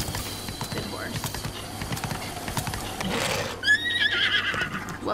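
A horse in a video game whinnies loudly near the end after scattered hoof clip-clops on the ground, with a person talking throughout.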